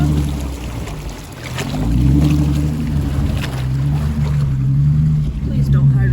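A vehicle drives through a rocky water crossing, its motor droning steadily with splashing and rumbling water close around it, while people talk over the noise.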